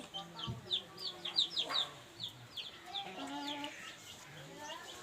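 Short-beaked hens offered for sale cluck in a series of quick, close, chattering calls, with a few brief pauses and a louder burst near the middle, while a person speaks nearby.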